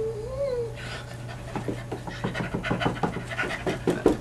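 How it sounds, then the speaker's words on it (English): A big, newly adopted shelter dog pants rapidly and close by in a home, quick rhythmic breaths starting about a second in after a faint whine, continuing steadily to the end. "My new dog that I adopted from the Humane Society."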